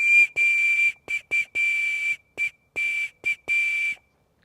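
A homemade whistle carved from elder wood blown in a series of short, clear, high-pitched toots of uneven length, loud and close, with no other sound between blasts.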